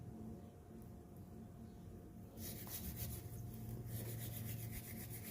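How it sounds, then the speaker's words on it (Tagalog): Clam shells are scrubbed with quick, dry rubbing strokes that start soft and become louder and busier halfway through, close up and with no talking. "Atin nang na-scrub ang ating shell."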